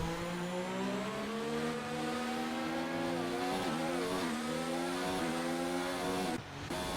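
Racing cars in an Xbox Formula-style race at the Abu Dhabi Grand Prix, engines screaming steadily down the straight with rising and falling pitch as the cars accelerate, loud and continuous, alone.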